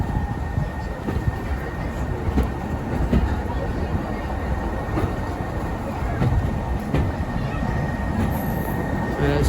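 Diesel locomotive hauling a train on the Great Central heritage railway, a steady rumbling roll with faint rhythmic wheel clicks and a thin high whine, continuous and moderately near.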